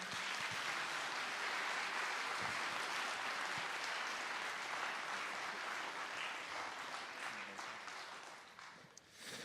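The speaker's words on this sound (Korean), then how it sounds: "큰 박수를 함께 보내주시면 감사하겠습니다" Sustained, loud applause from a large audience at a 2018 high school philharmonic orchestra's founding concert in Gimpo, South Korea, steady throughout and tapering slightly at the end.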